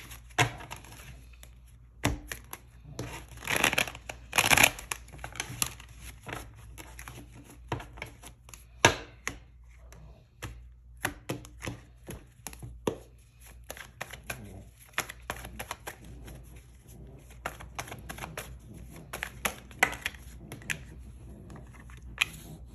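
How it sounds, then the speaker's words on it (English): Tarot cards shuffled by hand in a quiet room, a long run of crisp riffling and slapping bursts at irregular intervals, some sharper snaps standing out, close and clear with no talking. "So let me just shuffle the cards a bit."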